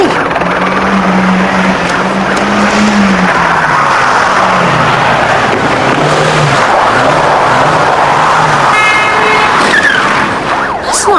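A car engine roars and revs loudly with a wavering pitch, tyres screeching as it accelerates away on a street outside, ending with a sharp high squeal; no voices over it.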